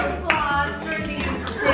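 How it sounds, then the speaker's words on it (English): Brief clapping from a small group aboard the cruise ship Allure of the Seas, a few hands patting over chatter and a voice, short and close. "Round of applause for these"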